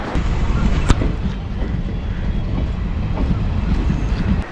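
A train at Kanchipuram railway station rumbles past close by, a loud continuous low roar with rhythmic wheel clatter and a sharp metallic click, no voices.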